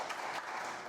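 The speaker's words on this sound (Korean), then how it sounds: "박수 치셔도 되는데." Brief burst of audience applause in a conference hall during a special session, a dense, continuous wash of clapping with no voices.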